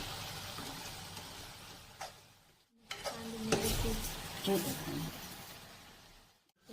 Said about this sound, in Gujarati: માવો એડ થઈ સારી રીતે હલાવશું